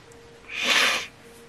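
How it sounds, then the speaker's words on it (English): A single short sneeze bursts out, a quick breathy blast lasting under half a second against quiet room tone. "And we try not to sneeze again."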